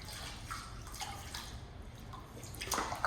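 Water splashes and trickles steadily as hair is rinsed in a salon water bath, with soft drips and running-water hiss up close.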